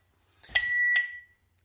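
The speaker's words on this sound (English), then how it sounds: "We heard that announcement beep." One short electronic announcement beep from a home alarm system, a clear high-pitched tone lasting under a second, alone in near silence.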